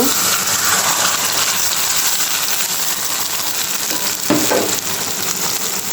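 Onion paste and mustard paste land in hot oil for a thin hilsa mustard curry, producing a loud, continuous close-up sizzle with a brief flare of spatter near the end and no speech.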